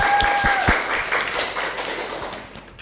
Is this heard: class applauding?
yes